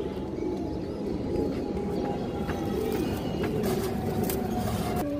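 Low, continuous cooing from a breeding pair of pigeons, a muffled steady murmur with a few faint higher chirps near the end.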